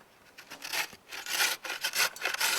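A carrot is rubbed against a grater for coleslaw, making a series of close, rhythmic rasping strokes in short irregular bursts with no talking.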